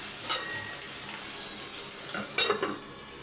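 A single tomato cooks in a covered pan, giving a steady, soft sizzle that holds throughout, with a couple of faint lid or utensil clinks near the end.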